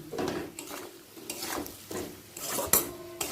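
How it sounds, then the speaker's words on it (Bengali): Chopped eggplant stirred with onion, garlic and green chilli in oil in a pan, a rhythmic series of spoon scrapes and clanks against the metal with faint sizzling beneath. "বেগুনটাও পেঁয়াজ রসুনের সাথে ভালো করে মিশিয়ে নিলাম"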